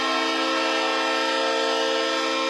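A train horn blares in a hockey arena after an overtime goal, one loud sustained multi-tone chord that holds steady throughout.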